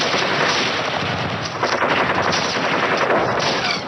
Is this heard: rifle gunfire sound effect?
yes